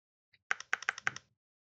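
A computer keyboard clicks out a quick run of about seven crisp, close keystrokes in a short burst while C++ code is typed, then falls silent.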